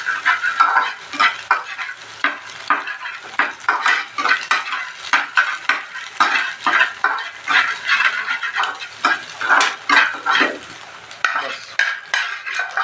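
Pasta ingredients fry in a home pan while a utensil stirs and scrapes, giving repeated rhythmic scraping strokes over a light sizzle, close and fairly loud, with no talking.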